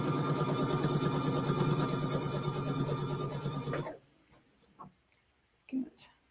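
A Luminaire sewing machine runs steadily for about four seconds, its fast mechanical stitching whir close and continuous as it stitches 2 1/4 inch binding onto a quilt, then stops, leaving a quiet room with a few soft handling noises.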